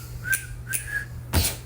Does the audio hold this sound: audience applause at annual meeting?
no